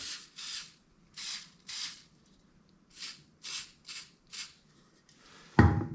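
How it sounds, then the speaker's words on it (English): Short hissing bursts from an aerosol can spraying shellac onto wood, about ten quick sprays in an uneven rhythm, ending with a louder clunk. "If I spray some shellac on here"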